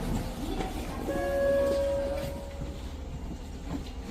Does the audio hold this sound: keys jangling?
no